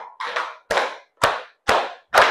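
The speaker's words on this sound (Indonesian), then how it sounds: "Tepuk tangan untuk kita semua ya" Classroom of students clapping hands together in a rhythmic count, five sharp group claps evenly spaced with brief silences between, close and clear with no talking.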